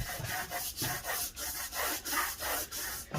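Back-and-forth rubbing of 600-grit paper polishing the crankshaft journals of an International Harvester 300 Utility tractor, a continuous close scratchy swish in even strokes roughly every third of a second, with no talking.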